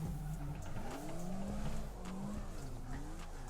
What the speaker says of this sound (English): We're gonna donut around this place.